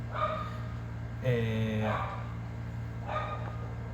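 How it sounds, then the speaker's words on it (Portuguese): A pet dog barks in the background of a home history-review lesson, a few distant yips and whimpering barks in short bursts over a steady low hum. "meu cachorro latindo ao fundo"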